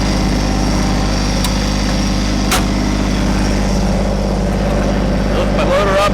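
Kubota BT602 compact backhoe engine running steadily and loud while its outriggers are raised, a constant droning hum with brief hydraulic or mechanical clunks partway through.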